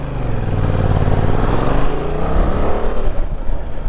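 A 2024 Yamaha Tracer 7 motorcycle engine drones loud and close while riding, a steady, rising roar as it pulls up toward 70, with wind noise mixed in throughout.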